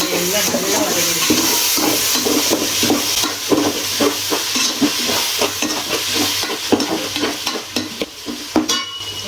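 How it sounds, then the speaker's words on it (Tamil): Tomato, ginger and garlic sauté in a hot pan for a vegetarian Kabuli pulao, giving a steady sizzle with repeated stirring scrapes throughout, close and fairly loud. "பாருங்க, தக்காளி இஞ்சி பூண்டு எல்லாம் நல்லா வதங்கிடுச்சு."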